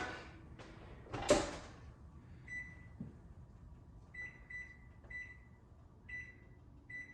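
A kitchen oven door opens and thumps shut with a clatter as a tray goes in for baking at 350, followed by a few soft thuds and a run of short electronic beeps from the oven controls.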